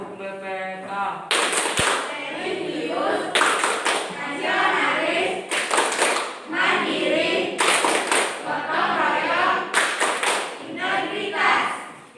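A class of Indonesian students performs a rhythmic "tepuk BPK" clap, loud and close, in repeated bursts of quick claps separated by short pauses, with chanting voices between the bursts.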